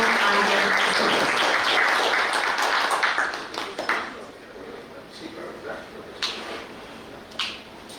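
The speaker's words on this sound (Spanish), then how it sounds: "le brindamos un fuerte voto de aplauso" Audience applause welcoming Dr. Carlos Arias Suárez to a lecture on Peruvian judicial reform, loud clapping at first that quickly thins to scattered claps and room noise.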